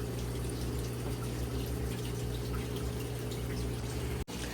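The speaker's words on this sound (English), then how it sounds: "go get the water flowing, push that in, and then we go over and suck up any little bit of garbage" Water flows steadily during an aquarium water change in a fish room, a dense continuous rushing and hum from the hose and pump, loud and unbroken apart from a momentary dip near the end.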